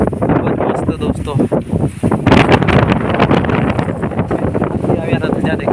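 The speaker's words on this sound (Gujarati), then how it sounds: "અને પવન જોઈ શકો છો તમે, ખૂબ જ પવન આવે છે." Strong wind roars across an exposed hilltop, buffeting the microphone in continuous blustery gusts, with voices faintly audible beneath it.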